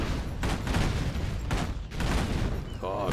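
Bursts of gunfire rake a jeep in the real-time strategy game Command & Conquer Generals Zero Hour, a dense, continuous fusillade with sharp cracks and a brief electronic tone near the end, loud and close.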